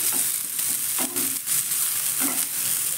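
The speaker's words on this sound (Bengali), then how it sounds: "পেঁয়াজ আর লঙ্কাটাকে হালকা একটু কালার চেঞ্জ করে ভেজে নেব" Onion and green chili fry in a pan with a steady, loud sizzle, broken by a few brief scraping stirs of a spatula.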